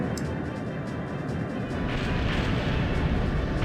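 A harpoon cannon fires and strikes an airship in the game Skies of Arcadia: Legends, a dense rumbling blast that swells into a loud sustained crash and roar with no voices.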